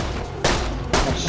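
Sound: shotgun shots in Borderlands 2 (video game)

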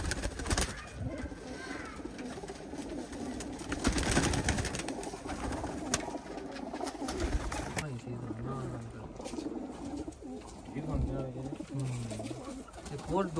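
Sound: pigeons cooing

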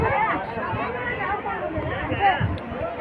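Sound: crowd chatter at a busy temple site

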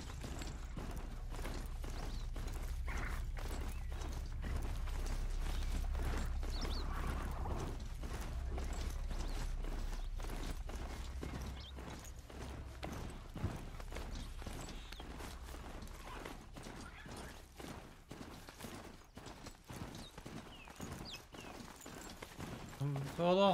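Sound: horse mount hoofbeats in the video game Horizon Zero Dawn

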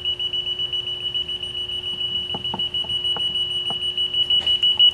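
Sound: ATS Bullseye leak detector alarm sounding

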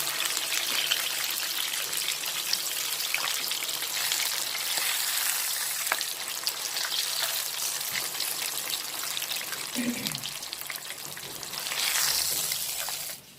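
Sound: red snapper fish frying in oil

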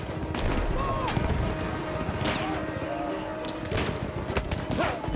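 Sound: gunfire from a gun in the video game Battlefield 1

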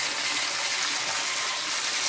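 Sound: water overflowing into a 4500 gallon DIY aquarium tank

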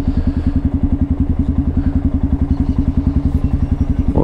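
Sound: Honda Lander motorcycle engine while riding

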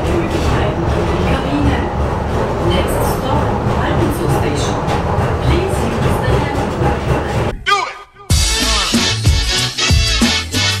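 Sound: funicular train moving

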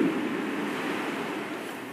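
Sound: rushing flowing water inside a cave

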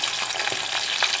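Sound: shrimp frying in a pan

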